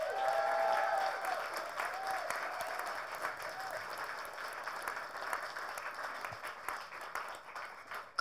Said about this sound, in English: could everybody please give a really big applause for my colleague, City Council Member Carl Nurse